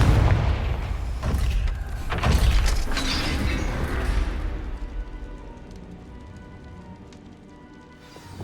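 A heavy gate slams shut in the Hogwarts Legacy video game: a dense, loud booming rumble with clanking mechanism sounds over several seconds, then settling into a quieter lingering drone.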